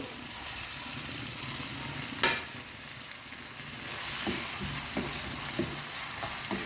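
Tomatoes sautéing in a pan for squid curry give a steady close sizzle, with one sharp clack early on and a few light spoon taps stirring through.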